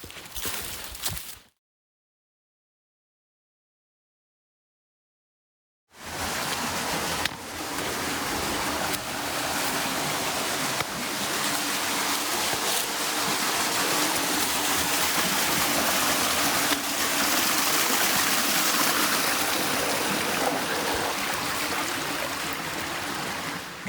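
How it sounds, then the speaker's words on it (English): Creek water rushing and splashing steadily near a waterfall in the Clark Creek Natural Area, a dense continuous wash heard close, broken early by a few seconds of silence. "Coming to this little fork in the creek."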